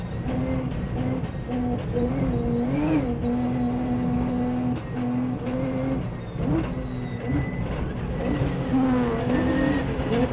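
A race car oversteers on a slippery track, its engine droning loud and close with shifting revs and brief tire squeal as the car slides, continuous throughout.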